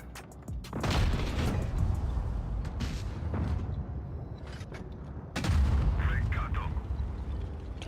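Heavy cannon blasts from a Minotauro tank in an online tank battle game, several loud booming shots with rumbling tails, mixed with game explosions and a player talking over them.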